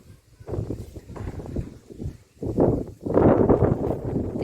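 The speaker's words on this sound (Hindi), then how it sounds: "यहाँ पे ना आज बहुत ठंडी ठंडी हवा चल रही है" Cold wind gusts outdoors in a village after a night of heavy rain, rising and falling in loud, rough buffets against the microphone with no speech.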